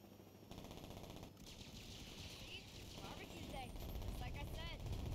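Rapid automatic weapon fire in the Saints Row game, a dense rattling barrage building in loudness amid engine-like rumble, with voices speaking over it.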